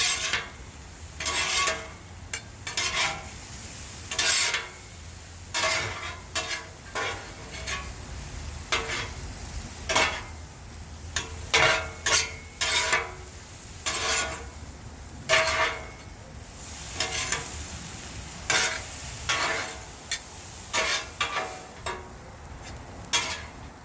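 Egg roll filling is stirred on a Blackstone griddle with a constant sizzle. Sharp metal spatula scrapes and clanks break in again and again in uneven bursts, loud and close.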